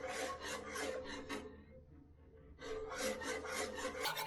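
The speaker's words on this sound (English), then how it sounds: "whisk in the flour and put in some elbow grease to make the gravy nice and smooth" Flour being whisked into venison gravy in a pot: a rapid, close scraping rasp of whisk against metal in quick repeated strokes, pausing briefly midway before resuming just as vigorously.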